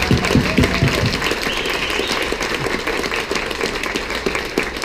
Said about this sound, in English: give them a quick little round of applause